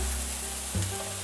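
Shiitake mushrooms sizzle in vegetable oil in a pan over medium heat, a steady close frying hiss with a brief clatter partway through.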